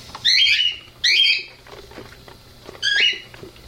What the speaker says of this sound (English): My birds are driving me crazy.